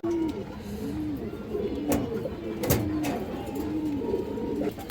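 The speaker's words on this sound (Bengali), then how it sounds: "এই দেখেন রপাঙ্খি মাদি কবুতর আছে, এই যে দেখেন একবারে ফুল ভাইব্রেশন, খাঁচা কাঁপানো।" A female pigeon in a cage coos repeatedly in a rhythmic, throaty series of low calls, close by, with a few faint clicks and rustles in between.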